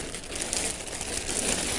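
A plastic bag holding folded quilts crinkles continuously and close up during unboxing, a dense rustle with no talk over it.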